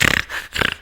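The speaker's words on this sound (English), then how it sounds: "I'm sniffling up a storm." Wet nasal sniffles from someone with a cold: two short bursts of sniffing snorts with a breathy pause between them, close and fairly loud, with no talking.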